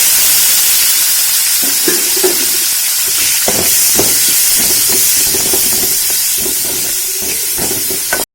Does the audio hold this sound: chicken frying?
yes